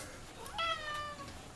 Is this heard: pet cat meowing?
yes